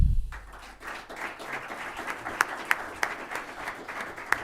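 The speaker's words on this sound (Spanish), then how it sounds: "les pido un aplauso" An audience claps in steady applause, a dense patter of many hands with a few sharper, louder claps standing out, moderately distant.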